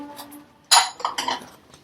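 A serving of shahi paneer being transferred from a pan into a dish, giving one sharp clink of metal against the serving dish followed by a few softer scraping and tapping sounds, close and fairly quiet.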